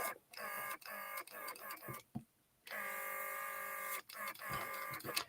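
A faulty airbrush spraying model paint on an Airfix Mustang kit gives a loud, steady buzzing hiss in long bursts, cutting out briefly before starting again.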